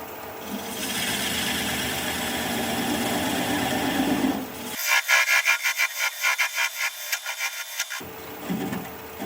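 A lidded piece is being cut on a wood lathe, heard up close. A smooth continuous cutting hiss gives way to a rapid, rhythmic rasping chatter of the tool against the spinning wood, then the steady cut resumes.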